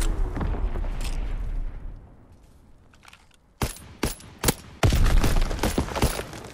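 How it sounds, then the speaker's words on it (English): Explosive blasts and bursts of gunfire from Call of Duty WW2 multiplayer, with a dense rumbling barrage at first, a brief lull, then several sharp loud bangs in quick succession. "You were very fortunate to not get killed by that explosion"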